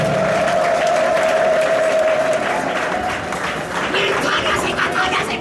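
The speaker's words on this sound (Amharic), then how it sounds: "ለእግዚአብሔር እልልታና ጭብጨባ ክብር ስጡ።" Church congregation applauding and ululating during a prophecy and prayer service, a dense, loud, sustained wall of clapping with a high trilling ululation running through it.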